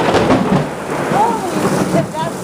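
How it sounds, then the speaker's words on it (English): A thunderstorm rumbles with steady rain close by and a low, rolling roar of thunder from a nearby lightning strike near a transformer, constant and loud throughout. "a killer thunder and lightning."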